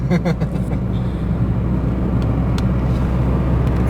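A car drives along Pitt Street toward Houstontown in winter, its engine giving a steady low hum with road noise, close and continuous.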